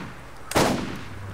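A sniper rifle shot fires in the video game Borderlands, one sharp loud crack followed by a short decaying tail over a quiet game background.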